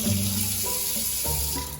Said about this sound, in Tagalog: So kung gigib ka ng tubig, ayan.